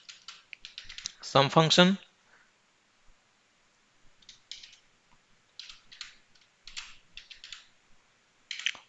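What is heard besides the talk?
typing on a computer keyboard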